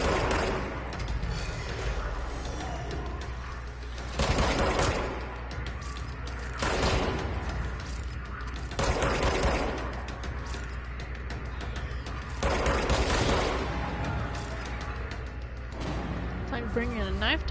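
Shotgun and pistol fire in a video game: several heavy, broadband blasts spaced a few seconds apart, punching through a dense, continuous background of game noise.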